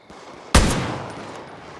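A single loud gunshot from a weapon in the video game Far Cry New Dawn, a sharp close blast followed by a long decaying echo, with no talk.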